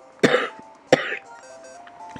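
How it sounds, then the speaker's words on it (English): Two sharp coughs from a nearby person, about half a second apart, then quiet with a faint tonal hum in the background. "I haven't coughed all night, and as soon as I start talking, I do"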